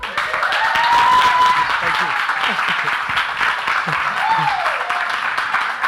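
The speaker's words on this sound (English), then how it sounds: "give a warm round of applause for Rouby" An audience at a comedy show applauds comedian Rouby as he takes the stage, a steady wash of clapping that runs throughout, with voices and a couple of whoops riding on top.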